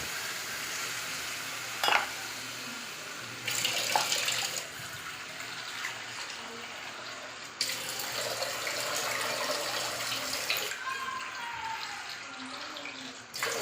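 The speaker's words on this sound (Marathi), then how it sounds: "आता इथे मी 2 वाट्या पाणी टाकते" Water pours and splashes steadily in several bursts into a cooking pan of moong and moth bean curry, a running, hissing stream with brief pauses and small clinks between pours.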